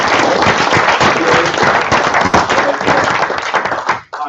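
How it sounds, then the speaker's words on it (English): Audience at a university group presentation session breaking into loud, dense applause and clapping that continues steadily close by, then cuts off abruptly near the end. "Round of applause for our collective effort."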